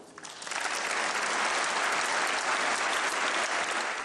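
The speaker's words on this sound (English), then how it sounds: "Applause for the daughter of Polish-Belarusian journalist and activist Andrzej Poczobut as she accepts the 2025 Sakharov Prize on his behalf" Loud, sustained applause in a large hall at the 2025 Sakharov Prize ceremony as the daughter of a Polish-Belarusian journalist accepts the award, a steady dense roar of clapping building quickly after a quieter start.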